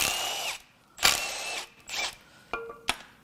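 A power tool drives out the front cover bolts on a 2.8L Duramax diesel engine, with several short loud bursts separated by pauses, and the final two are sharp, brief ratcheting spins.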